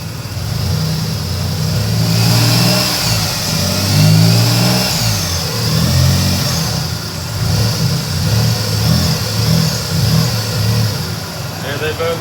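A Nissan Z31 engine fitted with upgraded dual electric fans and a low-temperature thermostat runs steadily near the microphone, a loud continuous mid-pitched hum with slight surges while a voice talks over it.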